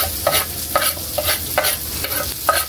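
Onion and garlic sizzle in hot oil in a pan for pork menudo while a spoon stirs them in steady, repeated scrapes, loud and close with no talking.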